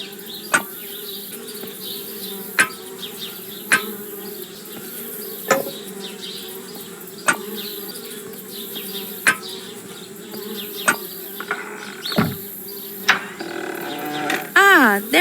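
Bees buzz steadily around a tree house in the video game Anna's Quest, a continuous insect drone broken by sharp periodic clicks, with a brief voiced tone near the end.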